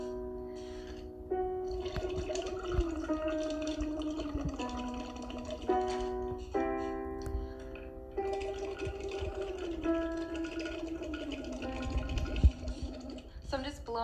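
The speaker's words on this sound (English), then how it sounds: "So I'm just blowing into the water, and I'm making that sound" Air is blown through a straw into a cup of water while the person voices sustained tones through it, giving a close, continuous bubbling hum with shifting pitches and brief pauses.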